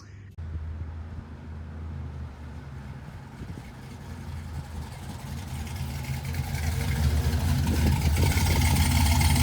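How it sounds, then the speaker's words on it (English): An LS-swapped 1971 C10 truck engine fires up and runs close by: a steady low rumbling idle that grows gradually louder and rougher toward the end, with no talk. "C10's back up and running"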